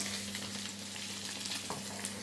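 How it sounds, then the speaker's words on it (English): Guanciale frying in a pan, giving a steady, close crackling sizzle that runs unbroken for the whole stretch with no voices over it. "while the guanciale is cooking"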